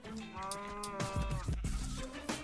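Minecraft cows lowing in a PS4 game, a few drawn-out harmonic moos overlapping one another at moderate volume, with no talk over them.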